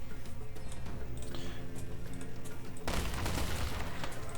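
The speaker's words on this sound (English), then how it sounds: "you can see they've got some hand cannons shooting back" Hand cannon gunfire in the strategy video game War Selection, a dense, continuous crackle of overlapping shots that swells into a louder, heavier burst partway through, with no voices.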